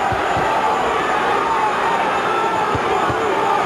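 A boxing arena crowd excited for fighter Johnny Tapia, a loud, constant roar of voices and chanting heard from within the audience, dense and unbroken over the short span.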